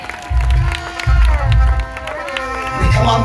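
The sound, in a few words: congregation clapping for Jesus at gospel meeting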